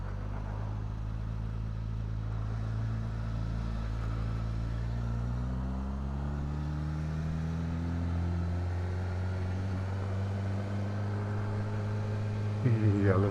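A 2023 Suzuki Katana motorcycle riding on the road, its engine droning steadily and loudly with pitch sweeping up and down through gear changes, wind rush mixed in and a brief voice at the very end.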